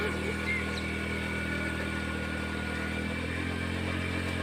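A motorcycle engine idles steadily while driving a farm water pump, a makeshift setup. Its even, continuous hum with low harmonic drone stays close and constant, with no revving and no voices.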